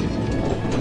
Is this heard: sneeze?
no